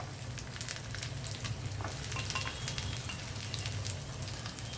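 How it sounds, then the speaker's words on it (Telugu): Onion frying in hot oil with garlic, cumin and mustard seeds makes a dense, continuous close-up sizzle, with scattered crackles and pops throughout. "ఉల్లిపాయ కూడా వేగడం టైం పడుతుంది కదా."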